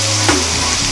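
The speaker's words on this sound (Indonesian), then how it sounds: "Udah panas, bawang bombaynya ditumis." Sliced onion hitting a hot pan and starting to sauté, a loud, dense hiss of sizzling oil that fills the whole brief moment, close up and without speech.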